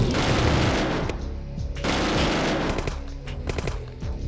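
Tank cannon fire in the Command & Conquer real-time strategy game, a rapid barrage of loud overlapping blasts and booms with explosions, dense and continuous before thinning into scattered shots.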